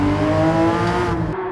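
A road car accelerating hard in second gear in the racing game Gran Turismo 7, a loud steady engine drone rising slightly in pitch, close and continuous with no talk.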